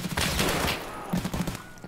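Gunfire from a firefight in the video game Escape From Tarkov, with two clusters of sharp reports, the second burst closer together and a little louder, with no talk over it.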